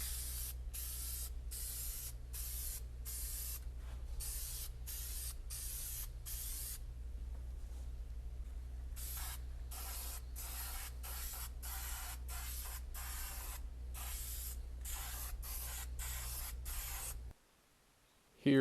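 Dupli-Color vinyl and fabric spray paint hisses from an aerosol can in a quick run of short bursts, some pulses merging into longer sprays, over a steady low hum, close and loud, ending with the spraying stopping.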